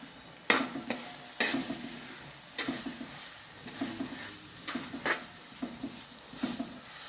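Sliced onions and green chillies stir-fried in a pan for a beef kaya roast, a soft sizzle broken by repeated scraping strokes of a spatula in a loose, regular rhythm, heard close up.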